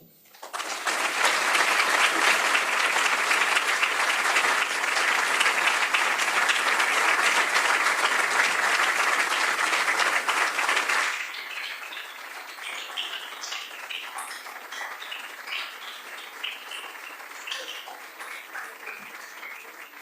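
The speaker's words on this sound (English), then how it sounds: "the warm applause that we just heard" Warm, sustained applause from an audience after a keynote lecture by a Prime Minister at an anniversary event in Europe, loud and dense for about eleven seconds, then thinning to lighter scattered clapping.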